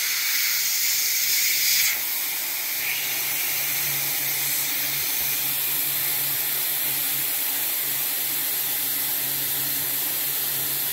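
Small pressure cooker on a stove releasing steam, a loud steady hiss running throughout after a brief stronger burst at the start, alone without voices.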